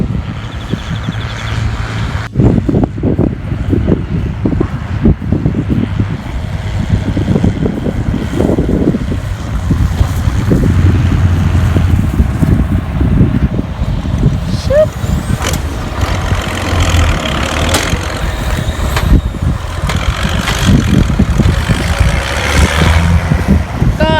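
A tractor drives quickly across a rice field while baling straw into round bales, a continuous loud engine drone with wind buffeting the microphone and someone talking over it.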